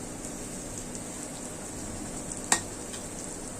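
Onion and garlic fry in a pan with a steady, close sizzle like light rain, broken once by a sharp click of a utensil against the pan; no one speaks.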